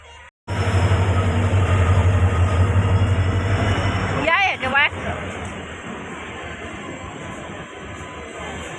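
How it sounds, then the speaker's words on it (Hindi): A train pulls into a busy Indian railway station with a loud, steady rumble that lasts the whole clip. A short screech or horn-like burst cuts through midway, and people talk nearby. "ट्रेन आ गई ट्रेन।"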